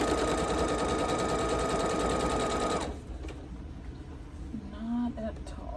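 A sewing machine stitches quilt borders, running steadily and loudly for about three seconds before stopping, after which quieter handling sounds and a brief voice follow.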